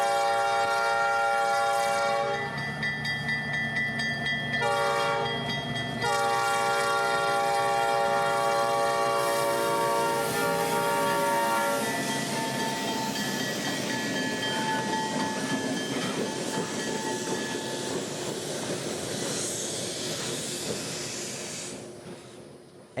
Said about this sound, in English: The train would be notching up once again, cresting the small hill that raises the tracks up to the crossing